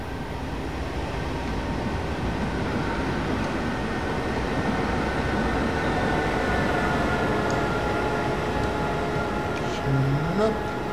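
Train in Train Simulator 2013 near Köln, a steady loud rumble of rolling rail travel throughout, with a faint rising whine near the end.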